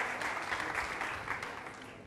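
TV studio audience applauding the band on a live band contest show, a steady wash of crowd clapping that gently fades toward the end.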